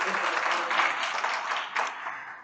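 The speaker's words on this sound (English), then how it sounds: "Give her a round of applause." An audience at a history lecture gives a round of applause, steady clapping heard clearly across the room before it tapers off.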